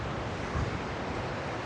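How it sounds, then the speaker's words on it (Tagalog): Heavy surf crashes and roars continuously on a Jomalig Island beach, a broad wash of ocean waves mixed with wind noise buffeting the microphone. "Malakas ang alon dito."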